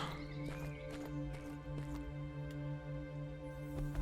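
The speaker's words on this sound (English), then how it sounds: "Let's place a jungle horse." A jungle horse placed in Mortal Online 2, with soft hoof clip-clops and a brief whinny over a steady droning game-music bed of sustained tones, moderately loud throughout.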